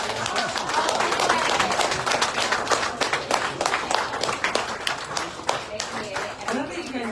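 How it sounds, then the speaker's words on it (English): Audience at an art awards ceremony clapping steadily, many hands in a dense continuous patter that thins slightly toward the end, heard over a quiet room. "I love that you guys are clapping so much"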